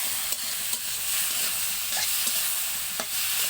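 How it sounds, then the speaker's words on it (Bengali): Curry ingredients with turmeric, taro, tilapia, potato and bitter gourd sizzle steadily in oil in a pan while a utensil stirs them, giving soft scraping knocks over the constant, close frying hiss. "তো এখন ভালো করে নাড়াচাড়া করতে হবে,"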